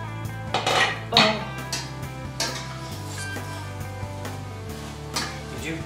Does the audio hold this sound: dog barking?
no